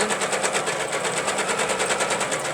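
A sewing machine stitches fabric for a quilted art journal, its needle running at a steady, even, fast rhythm throughout, close and alone with no talking.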